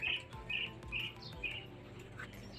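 Racing pigeons out on a training flight give a run of faint, evenly spaced chirps, four or five in quick succession, heard from a distance against quiet open air.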